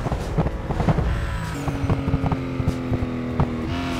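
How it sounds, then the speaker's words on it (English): A car engine in Need for Speed Most Wanted, fitted with an exhaust pop mod, drones steadily with shifting revs, and sharp crackling pops break through at irregular moments. "Exhaust Pop mod is a nice detail to your car's sound."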